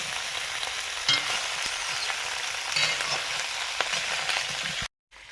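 Vegetables sauté in a pan, the close, steady sizzle broken by a few stirring scrapes before cutting off abruptly near the end.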